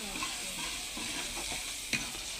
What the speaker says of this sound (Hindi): देखो जी मसाला जो है ना जी भून रही है जी, टमाटर और प्याज